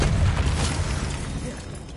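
A Bombarda blasting spell goes off in Hogwarts Legacy, a dense, booming explosion that rolls on for about two seconds with heavy low rumble and no clear break.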